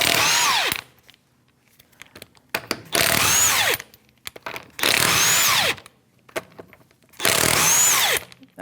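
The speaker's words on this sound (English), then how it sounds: "To remove your tire, a 19mm socket, and these are studs, not actual lug nuts." A power tool with a 19mm socket spins off wheel studs on a 2001-2007 Volvo V70 XC, sounding in four loud, close bursts of whining rattle, each about a second long, with quiet gaps between.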